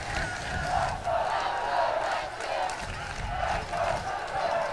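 Two rival crowds at a 2018 New Jersey boys' high school ultimate frisbee state championship, Westfield versus Columbia, cheer and shout in continuous swelling waves from the stands, with a commentator's voice running over the din.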